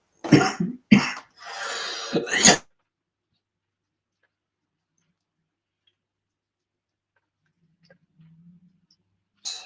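A person indoors gives a quick pair of harsh coughs, then a longer rasping cough and a final burst, followed by near silence.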